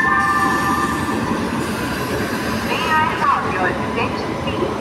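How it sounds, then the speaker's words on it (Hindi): The Fazilka Delhi Express arrives at Rajpura railway station, a steady rumble of rolling wheels with faint squeals and a brief whistling tone over platform ambience, while people talk in the background. "उसी रूट से फाजिलका दिल्ली एक्सप्रेस आ रही है"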